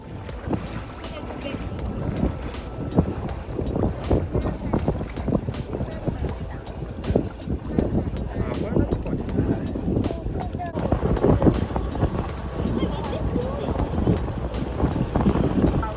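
A small boat travels across the sea off Cornwall, with a continuous rumble of engine and water and buffeting wind on the microphone, and voices talk over it throughout.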